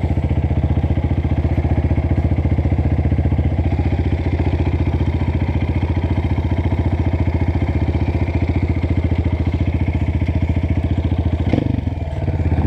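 A Honda CRF 230 dirt bike climbs a muddy trail hill, its engine droning loud and steady close by with a fast even thump, then easing and clattering near the end.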